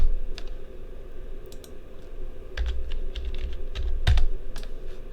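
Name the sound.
typing on a computer keyboard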